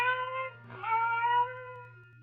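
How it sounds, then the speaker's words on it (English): A lone cat cries faintly in a 1940s old-time radio mystery drama, giving a drawn-out, wavering meow that rises and then tapers away over a low steady hum. "the silence was broken by the faint crying of one cat"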